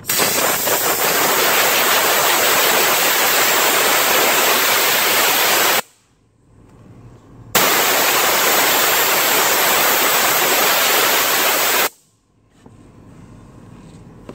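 Compressed air from an 80-gallon tank blowing out a car interior: two long, loud, steady hissing blasts, each several seconds long, separated by a short quiet pause, close to the microphone.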